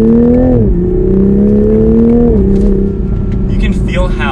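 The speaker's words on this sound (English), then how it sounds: "So we'll go back into manual mode, just give it a nice little acceleration." A 2021 Toyota GR Supra 3.0 accelerates in manual mode, its engine droning loud and close inside the cabin with a rising tone and a shift partway, while someone talks near the end.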